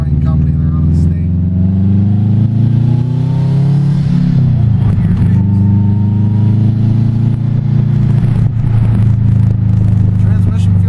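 Subaru WRX driven with its hood off, a loud, close engine drone rising and falling through gear changes as the car accelerates, with people talking over it.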